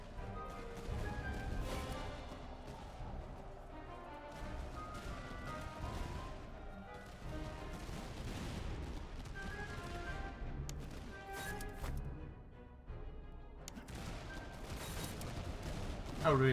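Line infantry musket volleys in Master of Command, Prussian Freikorps, crack out repeatedly as ragged fusillades and crashes over about sixteen seconds, with scattered shots in between and talk faintly underneath.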